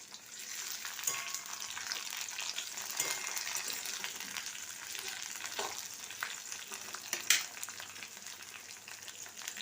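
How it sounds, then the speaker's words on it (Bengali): Tomato added to a pan of lightly browned fried onion and whole spices, sizzling steadily in oil with scraping stirs and a sharp clink of a utensil partway through, no one talking. "এবার দিয়ে দিলাম টমেটো।"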